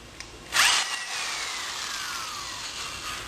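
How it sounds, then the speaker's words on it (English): A power drill bores a pilot hole into a 2x4 for concrete formwork: a short sharp bite into the wood, then a steady whine that slowly drops in pitch as the bit runs on. "forgot to drill a pilot hole"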